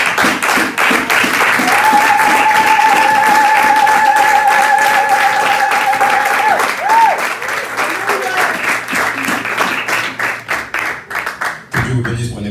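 A Sunday church congregation on its feet applauding, a loud sustained wave of clapping lasting about ten seconds with a held tone and scattered voices over it before it thins out.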